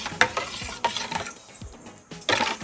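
Soup stock seasoned with salt, black pepper and sugar is stirred in a pot for bottle gourd soup, with irregular utensil scrapes and knocks against the pan over a light sizzle, close and unaccompanied by speech.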